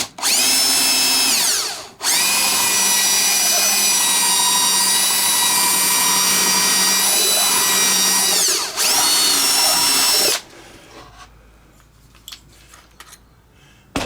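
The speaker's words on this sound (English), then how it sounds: "with my drill, I'm just going to put that rat tail file or drill bit in there" A power drill fitted with a rat tail file shapes an opening in a model FW190 warbird wing, its high whine running in two long bursts separated by a brief stop, then falling quiet with small handling knocks.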